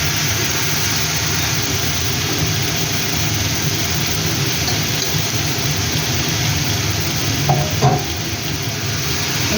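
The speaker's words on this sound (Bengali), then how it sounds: "মশলার সাথে আলু এবং ইঁচড় ভাজব" Potato and jackfruit frying with spices in a pan, giving a loud, continuous sizzle with steady stirring throughout and a brief clatter near the end, no voices.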